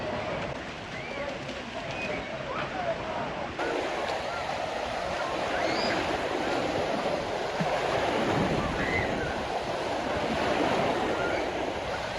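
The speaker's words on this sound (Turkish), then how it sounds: "Bakın dalga havuzu böyle." Waves in a crowded water park wave pool make a continuous rushing, churning wash, with loud surf noise throughout and faint crowd voices underneath.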